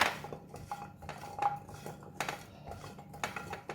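Baby carrots are tossed with garlic powder and paprika, giving light clinks and scrapes of utensils against a dish in short, close bursts, with no talking.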